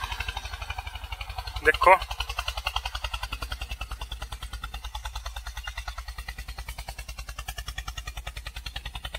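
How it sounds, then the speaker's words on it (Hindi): An Eicher 241 tractor runs in a high gear while ploughing a field with a cultivator, its diesel engine chugging in a fast, steady, close beat throughout, with a voice talking briefly over it. "भाई ने गियर लगा दिया है बड़ा, कितने शानदार तरीके से जा रहा है ट्रैक्टर"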